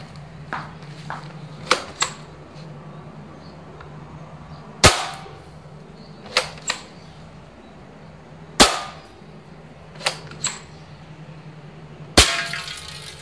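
Sharp snapping shots from a dCobra M96 air gun with a standard piston, several spaced apart with quieter clicks between, loud and close in a quiet room.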